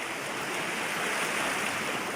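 Doe Tor Brook on Dartmoor, a moorland stream running just below the tor, heard as a continuous broadband rush of flowing water, steady and fairly close, with no voices.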